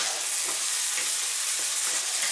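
Chinese-style beans and ground pork fry in a pan with a steady, loud hiss and sizzle, while faint stirring scrapes recur at intervals.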